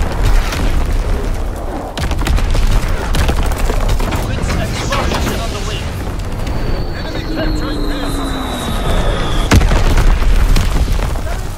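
Artillery explosions in a video game, a loud continuous barrage of booms and blasts with rumbling low end, a whistling shell streak passing through the middle and a sharp burst near the end, dense and relentless.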